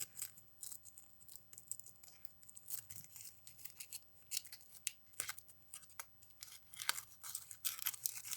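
Close crinkly plastic of a Bombo teddy bear snack package being cut open with scissors, with repeated snips and tearing rustles in an irregular rhythm, faint and with no talking.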